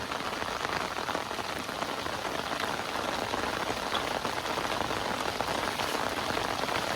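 Steady rain pours on a surface at a riverbank during fishing, a dense, even hiss that stays constant and close throughout, with no speech.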